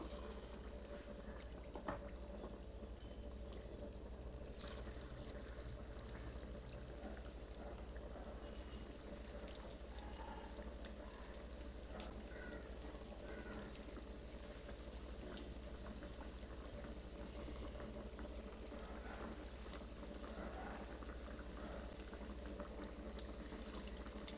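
Rice and lentil thavala vada batter fries in hot oil, giving a faint, steady bubbling sizzle that continues without a break and with no voices.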